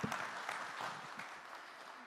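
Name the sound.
audience applause at a tech summit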